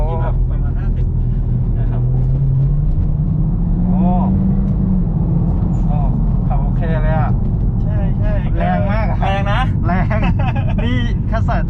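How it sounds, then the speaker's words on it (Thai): A Honda Civic FE fitted with Air Lift air suspension accelerates in sport mode, its engine note a steady droning hum with rising tone under ongoing conversation inside the car. "อย่างเมื่อกี้ที่ผมเหยียบคันเร่งนะเป็นโหมดสปอร์ต"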